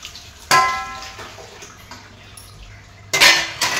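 A metal lid set onto a pot of fenugreek greens on a gas stove, a sharp clatter, a faint ringing, softer kitchen clinks and a second clanking knock near the end.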